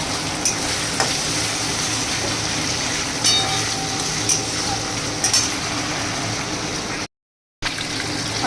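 Pre-fried potatoes tipped into a pan of masala with ginger paste and tomato, a continuous close sizzle broken by a few clinks and stirring scrapes and one brief dropout.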